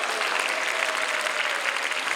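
A church congregation at a Korean peace-and-unification revival service in Yongsan breaks into sustained, dense applause that fills the space evenly from start to finish, with no voices rising above it.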